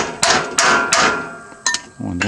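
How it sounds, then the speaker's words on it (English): Several heavy hammer blows bending down metal belt guards ring out close by, each strike clanging and decaying, spaced unevenly. "That's where the hammer comes in."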